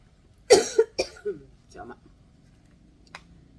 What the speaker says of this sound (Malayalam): ചുമ്മാ ചുമച്ചാട്ടോ.